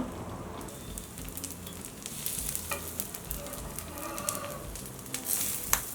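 Ghee sizzles steadily under a soft, fermented set dosa cooking on a hot pan, a close, continuous frying crackle with faint scrapes and pops, no voices.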